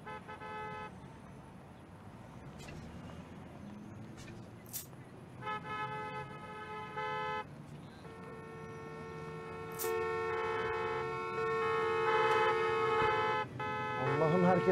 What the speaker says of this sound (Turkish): Allah'ım herkes kornaya basıyor.